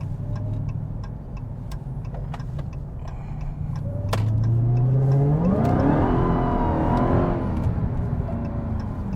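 An 800-horsepower rear-wheel-drive Dodge Charger Hellcat Redeye idles with a low rumble, then revs hard and accelerates, its engine pitch climbing loudly before easing off, with faint ticking throughout.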